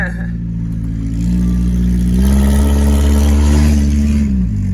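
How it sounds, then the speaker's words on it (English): A 1983 Volvo 242 with an AW-70 automatic transmission hums steadily while driving, its engine drone rising slightly partway through as it accelerates, heard from inside the car under a continuous low rumble. "Transmission sounds happy, though."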